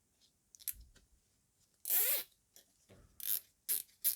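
A plastic zip tie is pulled through and ratcheted in a few quick bursts, with short rasping zips separated by pauses, close and fairly loud against a quiet background.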